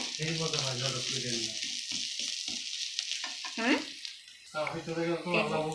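Onions fry in a pan with a soft, steady sizzle and occasional stirring, running beneath a person talking for most of the time.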